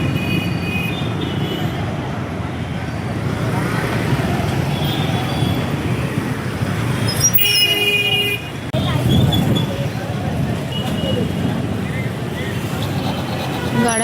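Busy road traffic in Kolhapur, with vehicles lined up outside a popular hotel. A steady engine rumble runs throughout, broken by occasional horn toots, and people talk nearby.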